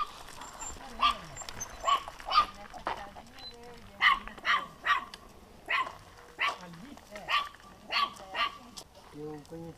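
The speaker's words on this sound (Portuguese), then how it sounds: "O cachorro." A dog barks repeatedly in a rhythmic series of sharp, moderately close barks, with people talking in the background.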